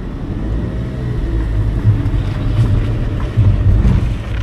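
A car pulls away in first gear over a sandy narrow road, its engine a steady low drone under rising revs, with rumbling tyres and wind noise and no talk.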